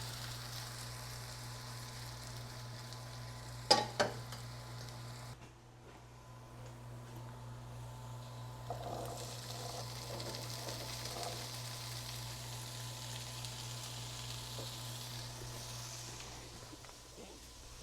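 Chickpeas frying in a pan, giving a steady soft sizzle throughout with a few brief clinks early on.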